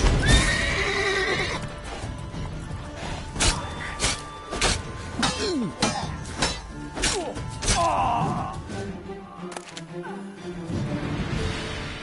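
Roach, a horse in The Witcher 3, whinnies loudly and gallops with sharp clip-clop hoofbeats and heavy thuds, along with groans and impacts from a fight nearby.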